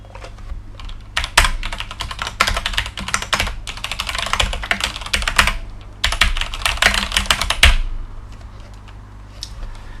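Rapid bursts of computer keyboard typing while writing code, close and crisp, with clustered keystrokes separated by short pauses.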